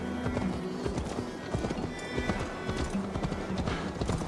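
A horse's hooves clip-clop in a steady, close rhythm, with a brief whinny in the mix and a little faint talk underneath.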